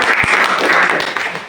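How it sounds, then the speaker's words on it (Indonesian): A classroom group claps after a student's poem recital, a short, close burst of applause lasting about a second and a half that thins out at the end. "Tepuk tangan."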